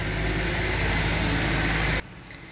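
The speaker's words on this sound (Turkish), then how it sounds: "Biraz arabalar daha fazla ses çıkartıyor" Cars passing outside on a wet, rainy road, a loud continuous tyre hiss and engine rumble that cuts off sharply near the end, leaving quieter background.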